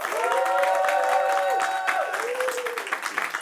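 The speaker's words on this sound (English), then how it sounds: "Just give yourself a round of applause." A live audience at a Super Eagles fan show applauds and cheers in a dense, sustained wash of clapping, loud and close, layered with a sustained tonal sound that lingers throughout.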